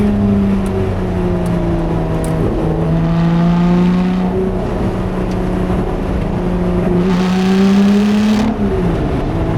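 A Lotus sports car engine roars loudly from inside, revving up and down as it accelerates on an Alpine road, with a steady rising and falling growl.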